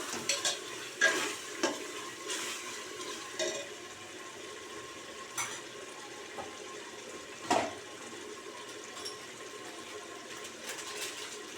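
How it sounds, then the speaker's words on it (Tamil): Spoon stirring biryani masala with salt and ginger-garlic paste as it fries in a pan, giving a soft continuous sizzle broken by scraping strokes and a few clinks. "இப்போ உப்பு போட்டுட்டு நல்லா ஒரு நிமிஷம் கிளறி விடுங்க."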